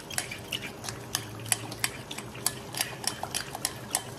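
A spoon whisks about three spoonfuls of thick, solid yogurt in a bowl for biryani, giving quick, irregular light clinks and scraping taps that stay close and fairly soft throughout.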